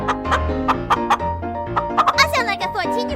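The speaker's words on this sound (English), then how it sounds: "Chicken." A chicken's clucking comes in quick, choppy bursts up close, mixed with playful chatter and a brief giggle.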